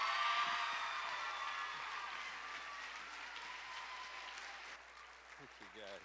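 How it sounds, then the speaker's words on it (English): A large audience at a 2005 Christian festival applauds to welcome a speaker on stage. The dense, steady roar of clapping is loud at first and slowly tapers over about six seconds. "let's give him a good round of applause"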